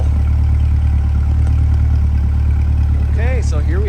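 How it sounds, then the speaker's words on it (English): A 2023 Corvette C8 Coupe 2LT with the Z51 package idles with a steady, deep exhaust rumble that holds even throughout, with a few faint high chirps near the end. "listen to that exhaust at idle."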